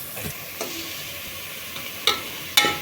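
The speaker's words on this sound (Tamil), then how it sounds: "கிட்டத்தட்ட 3 நிமிஷமாக ஃப்ரை பண்ணிகிட்ருக்கேங்க" Onions frying in a pan for mutton biryani, a soft steady sizzle with a few sharp scraping stirs near the end, close and fairly quiet, no talk.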